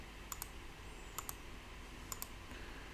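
Three faint pairs of quick plastic clicks, evenly spaced, as calculator buttons are pressed to enter the A, B and C values of a parabola, over a low steady room hiss.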